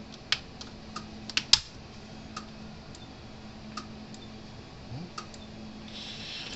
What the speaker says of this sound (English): these things make like a clicking, winding up, or like a squealing, winding up sound when you turn them on